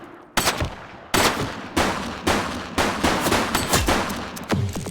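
Gunfire from a suspect in The Precinct, a series of loud sharp shots in irregular bursts roughly every half second to second, each with a short echoing tail, no talking.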